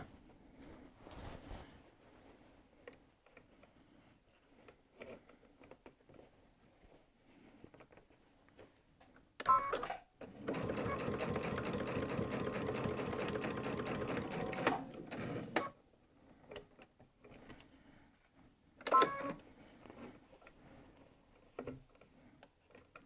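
A sewing machine stitches a short jacket collar seam onto the neckline, one steady burst of several seconds between quiet pauses, with small handling clicks before and after.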